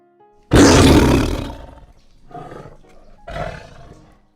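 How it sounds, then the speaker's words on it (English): A tiger gives a loud, close roar that swells and fades, followed by two shorter, quieter growling roars, with no talking. "But what does a roaring tiger sound like?"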